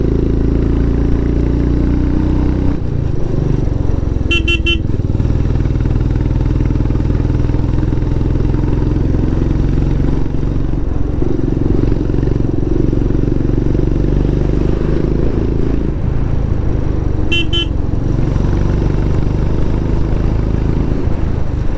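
A cruiser motorcycle riding on a road in Nepal, its engine a loud steady close drone with slight shifts in pitch, wind rush and a couple of brief electronic beeps, no talking.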